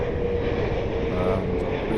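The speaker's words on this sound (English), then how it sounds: "But it is Air Canada 777-300. Here she comes," An Air Canada Boeing 777-300 with GE90 engines passes at London Heathrow, a steady, loud jet engine roar and whine holding evenly across the whole stretch.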